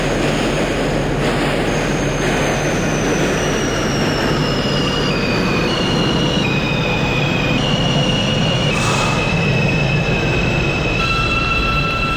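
A simulated New York City subway R160 train runs on the A line in the OpenBVE train game, with a steady rumbling roll, wheel clatter and gliding motor whines and squeals at high pitch, continuous and close, with no speech.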